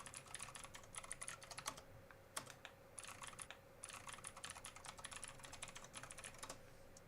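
Rapid clicking of fingers typing on a computer keyboard, quiet and close, coming in steady bursts with short pauses between them and a faint electrical hum underneath.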